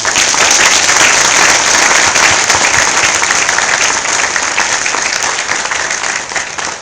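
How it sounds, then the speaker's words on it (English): Sustained, dense audience applause for a panel at a startup community launch event in San Diego, loud and steady throughout before tapering slightly near the end. "Can we give a round of applause?"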